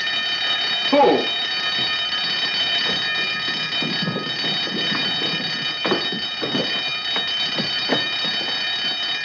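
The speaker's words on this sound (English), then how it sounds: "Turn off the alarm." An alarm bell in a 1952 American spy film noir rings continuously and steadily throughout, a shrill, sustained buzzing tone under brief speech and background movement.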